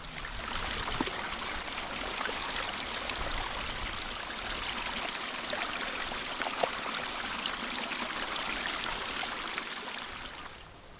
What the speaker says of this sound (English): can hear the water. I just can't see the water. It's close though